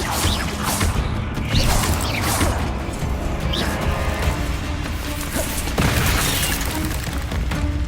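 Bombarda spell explosions boom in the video game Hogwarts Legacy, several heavy blasts and crashes with whooshing bursts, loud and close amid ongoing combat noise.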